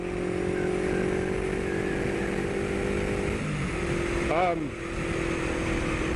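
A motorcycle cruising at highway speed, its engine droning steadily with a constant hum and wind rush, a brief pitch sweep near the end as it shifts or passes.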